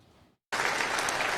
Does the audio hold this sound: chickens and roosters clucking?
no